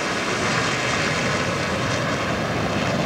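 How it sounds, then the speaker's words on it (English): Five A-4 Super Skyhawk jets and three F-16 Fighting Falcons fly low over a stadium during a national day parade, giving a loud, steady broadband roar that fills the whole stretch without a break. "five A4 Super Skyhawks flying across the stadium. And there you see, accompanied by three F-16 Fighting Falcons."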